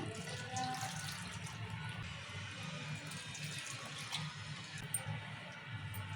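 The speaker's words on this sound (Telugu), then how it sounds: "ఇక మిక్సీలో ఇప్పుడు వాటర్ పోసిపోతాము" Water runs and splashes softly into a mixer jar of chicken curry masala, a low continuous pour with no talking.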